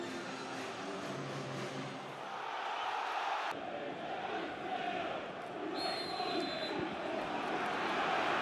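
A vociferous football crowd roars at Fratton Park, Portsmouth, during an FA Cup third round match against Arsenal, a dense, steady wash of massed voices that swells slightly and keeps going without a break.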